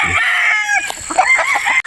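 Chickens cluck and a rooster crows, dense and close, a busy coop chorus of gamefowl including young stags (pullets) with overlapping calls throughout.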